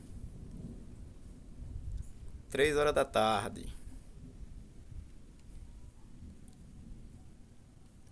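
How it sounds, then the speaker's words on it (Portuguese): Low thunder rumbles beneath steady rain as a storm approaches on a February afternoon in rural Pernambuco, Brazil, while someone talks close to the microphone. "Ó o trovão, vou pra dentro."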